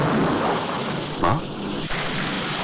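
Steady rain falling, a dense even hiss throughout with a faint low rumble, heard alone without talk.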